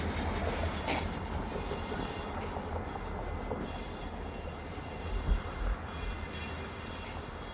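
A local freight train rolls past at a steady pace in a continuous roar of wheels and rail noise, with faint squeals and clicks from the cars passing over the track. No voices are heard.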